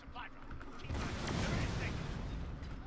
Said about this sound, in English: There come the mortars.